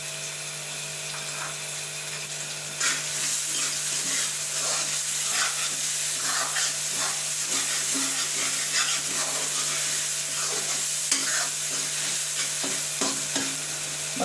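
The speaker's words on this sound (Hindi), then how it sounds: "अब मैं ज़रा इसकी थोड़ी सी और भुनाई कर लूँ" Spinach and egg with ghee and spices being roasted in a pan, a steady close sizzle with frequent scraping and stirring strokes throughout, no voices.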